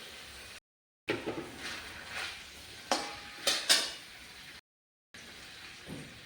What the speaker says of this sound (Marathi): हे चांगले तेलामध्ये परतून घेऊया थोडे